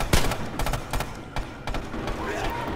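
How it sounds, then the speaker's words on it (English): Red Orchestra 2 gunfire, a burst of sharp rapid shots followed by several more scattered cracks and thuds, loud and close, with a voice speaking faintly underneath. "Just pepper him with fucking bullets."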